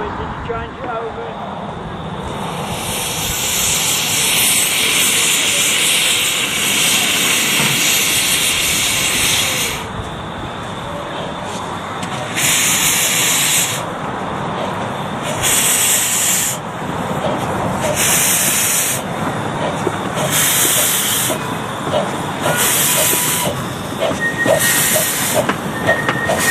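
A miniature steam railway locomotive at Rhyl hisses loudly, a long continuous blast giving way to repeated rhythmic chuffing bursts of steam, with people talking nearby.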